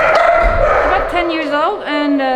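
At an animal shelter, a dog yips and whimpers in high, wavering cries close by, while people talk over it.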